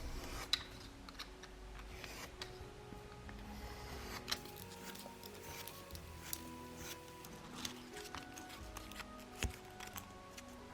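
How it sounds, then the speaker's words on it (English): Small scissors or a craft knife snipping and scraping pieces for the wings of a scratch-built gold dragon miniature, a quiet run of faint irregular ticks and rasps close by with no talking. "Behold, minor cutting noises."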